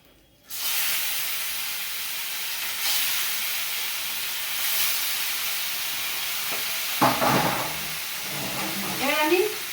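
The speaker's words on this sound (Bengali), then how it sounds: "সব মাছগুলো এরকম করেই ভেজে নেব" Tilapia fish frying in hot oil makes a loud, continuous hiss that starts abruptly and holds steady. Occasional spattering bursts and a few utensil sounds come near the end.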